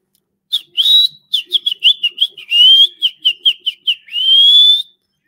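A person whistles a rapid series of short, high, birdlike chirps and longer trills, imitating birdsong, loud and close with clear gaps between notes.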